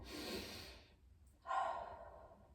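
Slow, deep breathing during a yoga twist stretch: a long soft exhale, a brief pause, then another audible breath, close and quiet, with no talking.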